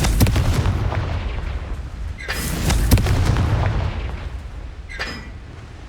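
Confringo blasts burst in Hogwarts Legacy, several loud booming explosions with crackling debris, spaced irregularly over a continuous rumble.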